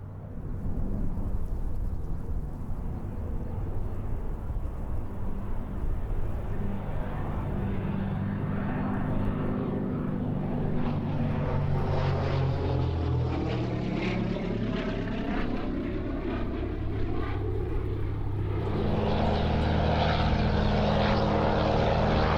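A propeller warplane in Norwegian Air Force markings flies past at the Duxford air show, its engine a loud, sustained drone that rises and shifts in pitch as it passes, alone and without talk.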